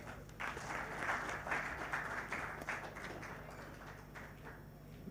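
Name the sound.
audience applause for Keith Karegira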